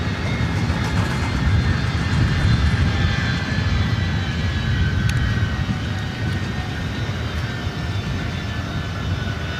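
Jet airliner taking off at LAX, a sustained, loud, broad roar of engines at full thrust that holds steady throughout with no voices.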